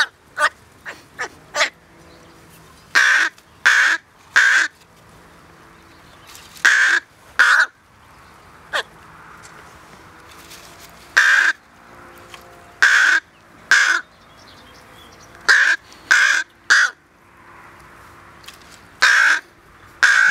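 A rook chick calls loudly while being fed, with harsh caws and begging squawks arriving in irregular clusters between quiet pauses.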